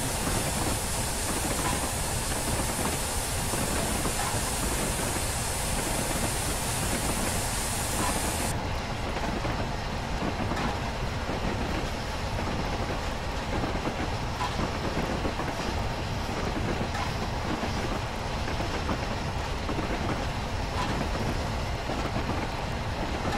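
The Flying Scotsman steam train runs along the rails with a loud, unbroken roar and rumble, a dense steady noise close by that continues without pause.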